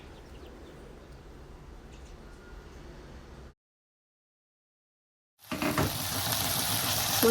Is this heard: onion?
yes